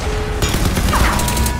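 Rapid burst of gunfire from the video game Crysis 3, a loud, dense fusillade of overlapping shots with crashing impacts filling the whole moment, no voices over it.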